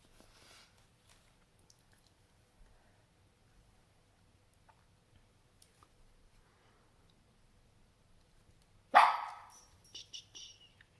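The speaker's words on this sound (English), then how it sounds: "the dogs are hanging with me right now" Dogs let out a single sharp bark near the end, close and loud, followed by a few softer yelps, after a long stretch of near silence and faint shuffling at a watercolor painting table.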